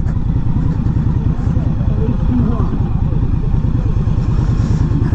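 A 2022 Indian Scout Rogue motorcycle rides along a Northern California road: a steady, loud, low engine rumble with wind noise throughout, and a rider talks over it.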